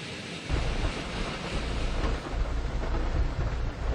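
A steady heavy monsoon downpour in Quezon City, a dense broadband hiss of rain with a low rumble underneath, constant throughout.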